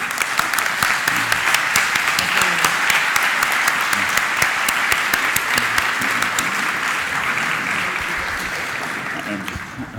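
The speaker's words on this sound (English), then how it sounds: "could you please stand up and perhaps we can give you all a round of applause" A conference hall audience at a closing plenary gives a long round of applause to the programme committee, loud and continuous with dense clapping that tapers slightly toward the end.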